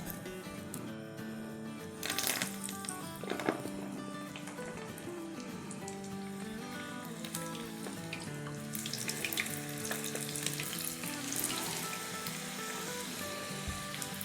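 Pakoras, Urdu-Hindi style fritters for Iftar, frying in hot oil with a steady close sizzle and bubbling throughout, swelling louder around a couple of moments as more batter goes in, with no talking.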